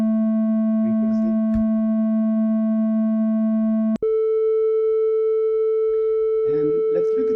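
Synthesized oscillator tone generated in WebAudioXML, a square wave through a low-pass filter at 500 hertz, holding one steady pitch then jumping to a higher steady note after a click, with faint speech underneath.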